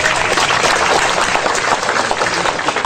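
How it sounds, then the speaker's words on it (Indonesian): Audience at an Islamic sermon gathering bursts into applause, a loud continuous patter of many clapping hands filling the whole moment with no pauses. "Tepuk tangan untuk Mas Dik."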